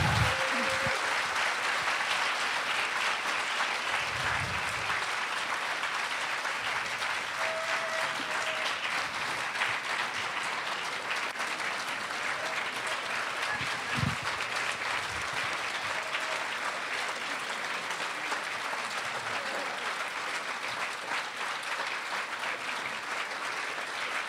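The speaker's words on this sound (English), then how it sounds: "I am now going to make an exception and allow applause in recognition." Sustained applause from a town meeting audience in Amherst fills the hall, a steady even wash of many hands clapping, with a few faint low thumps and murmurs underneath.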